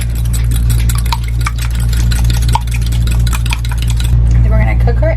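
Eggs seasoned with salt and pepper are beaten in a bowl, giving quick, irregular clicking and scraping strokes over a constant loud low hum.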